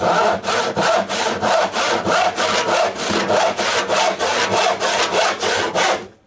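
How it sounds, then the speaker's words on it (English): Spear & Jackson crosscut hand saw cutting through wood, a steady run of about sixteen rhythmic rasping strokes, close and loud, with no talking. "you want to be using a crosscut. This is the Spear & Jackson one that we sharpened just recently"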